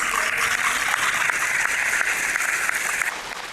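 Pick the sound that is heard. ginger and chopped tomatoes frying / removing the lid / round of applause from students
round of applause from students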